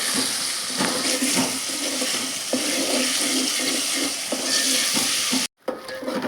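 Masala sizzling steadily in a hot pan for chicken curry, a continuous loud frying hiss with occasional scraping stir strokes, no talking.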